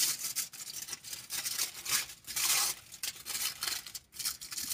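Scissors snipping through thin filter material being cut into squares for reusable K-Cup filters, a series of short crisp cutting and crinkling strokes with brief pauses, close and fairly quiet.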